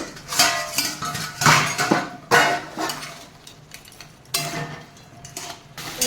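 A metal lid clanks and scrapes as it comes off a pot of sea crab curry (kankrar jhal), with several sharp clattering knocks and rattles in a quiet kitchen.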